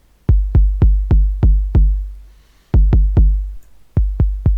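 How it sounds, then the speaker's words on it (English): Punchy synth kicks from a Reaktor drum plugin with distortion switched on, a steady run of six hits, a short pause, then more hits, each a deep, slightly gritty thump ringing out alone. "So for the kick you get a bit of distortion"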